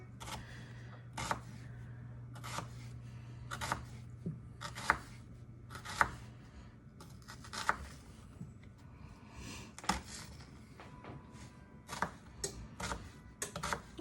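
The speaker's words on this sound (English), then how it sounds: "Now we're going to thinly slice these." A small knife slicing thinly through vegetables for BBQ meatloaf, making a quick series of crisp, close taps on a cutting board at an uneven pace, with a steady low hum in the background.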